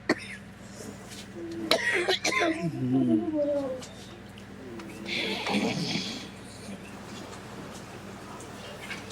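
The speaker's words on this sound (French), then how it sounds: "J'en ai marre de tousser." A former shipyard worker with breathing problems from asbestos exposure coughs several times in short, rough bursts. The coughs are fairly close but fairly quiet over a murmur of background noise.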